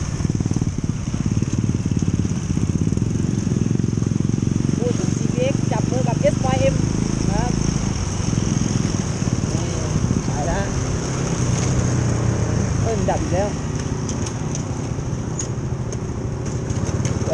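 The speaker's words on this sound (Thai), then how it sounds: "เมื่อกี้มันดับปึ๊ดปึ๊บปึ๊บปึ๊บ" GPX MAD300 motorcycle engine running loud and rough outdoors, its exhaust rumbling steadily throughout with brief sputtering bursts, while people talk over it.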